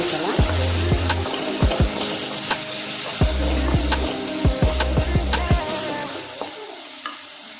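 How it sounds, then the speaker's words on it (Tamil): Prawn thokku masala with turmeric and chilli powder sizzles in a pan, close and loud, while a spoon scrapes the pan in repeated, uneven strokes. "இதை ஒரு நிமிஷம் நம்ம வந்து அந்த பச்சை வாசனை போகிற அளவுக்கு நம்ம வந்து நல்லா வதக்கிடலாம்"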